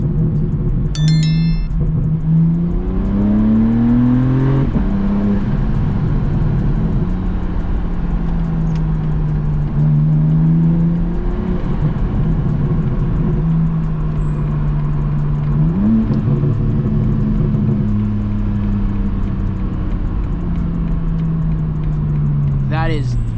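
A BMW G80 M3 fitted with catless downpipes revs repeatedly, its engine note climbing and falling in several loud pulls with a deep rumble between them.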